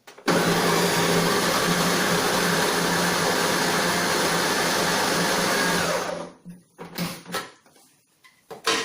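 An electric chopper grinding red plums for homemade wine, a loud continuous whirring motor that runs steadily for about six seconds, then stops, followed by a few short bursts and knocks.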